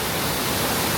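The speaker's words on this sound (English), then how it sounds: "walk right up to the big waterfall. I don't even know if you can hear me over it." Big waterfall at Fall Creek Falls, Tennessee, roaring as a dense, steady broadband rush, loud and close, unbroken for the whole moment with no voices over it.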